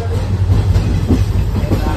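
A passenger train traveling from Old Delhi toward Ringas rumbles on the rails with a steady, loud roar and low rolling hum, heard continuously from inside the carriage.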